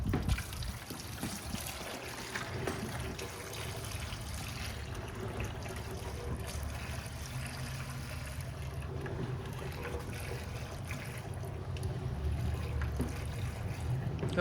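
Water drains from a washing machine set from normal to drain as a steady, low rushing and gurgling flow that continues throughout at moderate level, with no talk.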